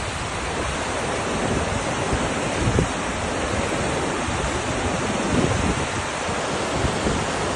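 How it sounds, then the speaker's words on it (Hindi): Roaring, surging Nagar river in Pakistan, heard as a steady, loud broadband rush of fast water with wind, constant throughout with no voices. "ठाठे मारते हुए नगर दरिया के किनारे"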